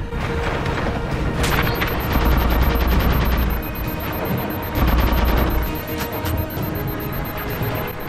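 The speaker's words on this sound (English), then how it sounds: "So you got some people shooting up top with the beam rifles." Beam rifle fire in the video game Halo 4 during the Dawn mission, a run of sharp, loud shots and booms layered over dense battle noise, with no talking.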